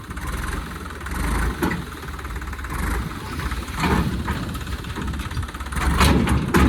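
A tractor engine idles steadily at moderate distance with a burst hose, a few clunks and rattles rising and falling over the hum.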